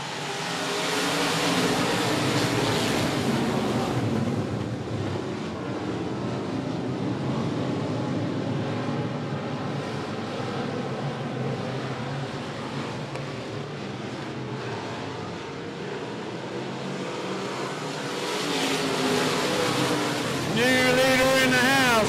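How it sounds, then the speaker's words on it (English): A pack of race cars roars off at the green flag at 105 Speedway, a dense, loud wall of engine noise that stays steady and swells again toward the end. "Green flag, here we go racing"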